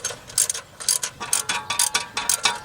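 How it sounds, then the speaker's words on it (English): A ratchet wrench works bolts on the 3FE engine of a 1989 Toyota Land Cruiser FJ62 during an EGR and smog equipment removal, producing rapid, close, rhythmic clicking bursts of the pawl. "It's exciting watching me wrench, right?"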